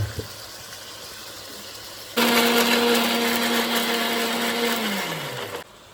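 Mixer grinder whirring loudly as it grinds washed green chillies for chilli chicken masala, starting abruptly after a quiet moment, running steadily for about three seconds, then winding down in pitch before stopping.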